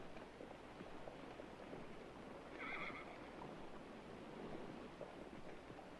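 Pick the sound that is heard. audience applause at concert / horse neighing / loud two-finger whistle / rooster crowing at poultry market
horse neighing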